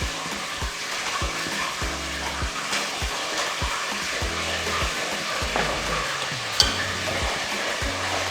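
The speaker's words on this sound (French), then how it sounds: "Et j'essaye de mélanger" Yassa chicken is stirred in a pot with repeated scraping and soft clanks against the pot, steady and close, over a faint sizzle.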